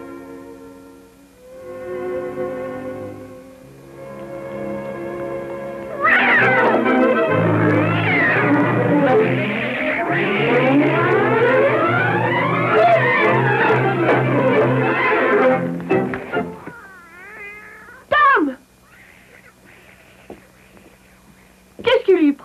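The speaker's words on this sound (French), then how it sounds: "Qu'est-ce qui lui prend tout à coup à ce chat?" A cat in a 1938 film yowls and wails loudly in long, sweeping, rising and falling cries against an orchestral score. Brief voices come in near the end.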